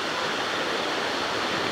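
A strong waterfall roars in a steady, dense wash of rushing water, close and constant with no pauses.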